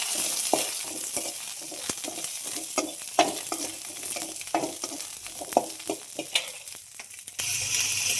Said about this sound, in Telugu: ముందుగా అయితే పల్లీలు అయితే ఇలా వేయించేసుకోండి ఫ్రెండ్స్. పచ్చిమిరపకాయలు కూడా వేయించుకుందాం ఫ్రెండ్స్.